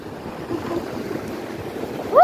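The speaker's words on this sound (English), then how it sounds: "The waves are coming!" Ocean waves washing up on a beach, a steady soft surf rush with a gentle swell in the middle, followed by a brief high squeal at the end.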